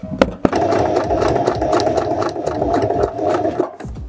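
A sewing machine runs steadily, stitching a zigzag in white thread along a trouser waistband, with a continuous mid-pitched whir and rapid needle clatter that starts abruptly and stops after about four seconds.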